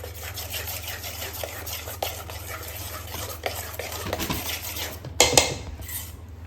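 Surti locho batter of ground rice and poha being mixed in a bowl, a steady close scraping and stirring with scattered light clinks of a utensil against the container and a brief sharper clatter near the end.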